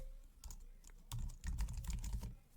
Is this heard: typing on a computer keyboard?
yes